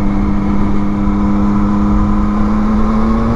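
A 2021 Yamaha MT-09 SP motorcycle engine runs close and loud with a steady, even drone and a constant low hum, holding a fairly level pitch throughout.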